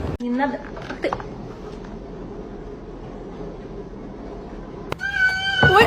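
Cats meow and yowl during a fight, with sharp cries at the start and a drawn-out wailing burst near the end, between quieter stretches of background rumble.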